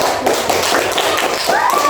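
Pupils in a classroom applaud a group that has presented a recycled-waste art project: close, brisk clapping with sharp individual taps and a few thuds, dense and loud.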